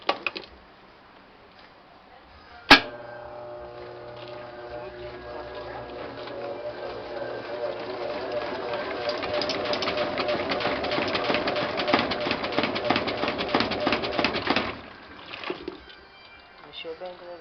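A Brastemp Clean washing machine running an unbalanced load of dark clothes gives a sharp knock, then a steady motor hum that builds into a rattling spin and stops abruptly near the end.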